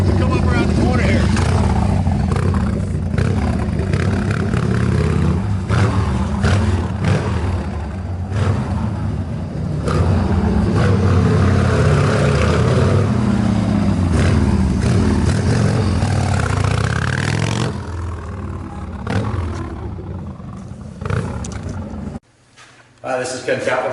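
A 1988 Harley-Davidson Sportster with loud aftermarket pipes rides around a corner, its engine rumbling and revving for most of the stretch before backing off and fading near the end, with someone talking over it.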